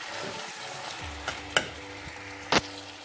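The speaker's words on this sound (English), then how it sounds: "So what I just have to do is mix everything together." A spoon stirring Nigerian meat pie filling of meat and potato in a pot, soft scraping and gentle sizzling with a couple of sharper clinks against the pan.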